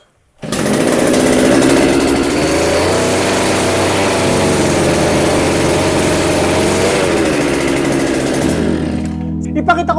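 Engine-powered rice planting machine running on test for factory defects, a loud steady close engine drone that starts abruptly and holds for nearly the whole clip before cutting out near the end.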